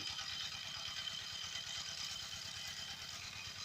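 A walk-behind tractor levelling soil in a field, its small engine chugging in a continuous low, even rhythm, faint and somewhat distant, with no talk.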